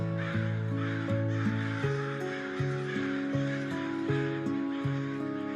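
A crow caws over and over in a steady, even rhythm, the calls moderately loud and close, with no talking.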